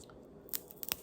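Dried purple hull pea pods give a few sharp, dry crunches and cracks as they are opened by hand, close and fairly quiet over a low background hiss.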